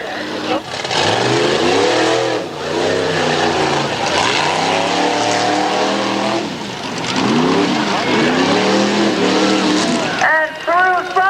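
A vehicle roars through a muddy mud run course with a loud engine revving up and down, the pitch sweeping repeatedly as it accelerates, while an announcer talks over the noise.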